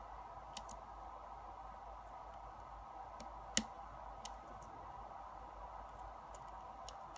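Faint, sparse clicks from a lock being picked, a few small isolated ticks scattered over a quiet hiss with one sharper snap near the middle.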